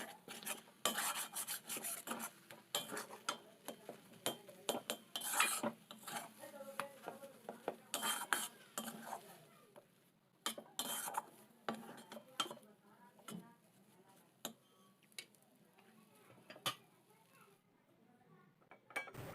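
Semolina dough is worked in a metal kadai with a utensil, giving irregular scraping, rasping and clinking strokes, close and fairly loud, in uneven bursts with brief pauses.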